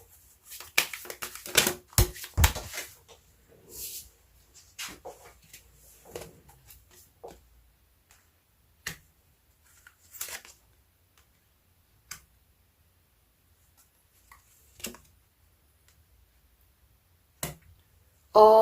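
Tarot cards being shuffled and drawn for a reading, giving sparse, sharp card snaps and flicks, a busier flurry at the start and then isolated clicks spread through a quiet background with no talking.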